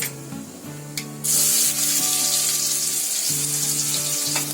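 Finely chopped onion drops into hot oil with roasting mustard seeds, setting off a loud, steady hiss of frying that swells abruptly after a quieter crackle and carries on unbroken.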